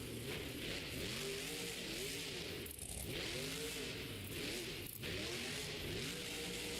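A monster truck engine at a Monster Jam arena show in Albuquerque revs in repeated rising and falling surges, loud and steady, with no talk over it.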